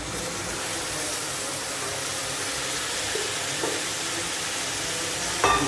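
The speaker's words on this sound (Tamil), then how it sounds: "சிக்கன் போட்டு நல்லா மிக்ஸ் பண்ணி விட்டுருங்க." Chicken frying in a hot pan while being stirred, a steady loud close sizzle and hiss with occasional faint scrapes and a brief clatter near the end, no talking.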